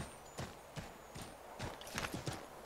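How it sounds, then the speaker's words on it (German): Rhythmic clip-clop of horse hooves at a steady trot in the video game Assassin's Creed 3, with sharp clear strikes close by. "Ich hoffe, ich komme hier voran mit dem Pferd."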